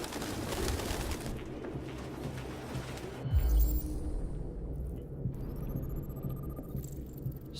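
Pigeons in Detroit: Become Human give low, throbbing coos close by over a steady room hum, with a heavy thump near the middle and a thin high tone later, and no speech.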